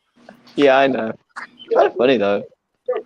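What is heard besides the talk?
dog barking and whimpering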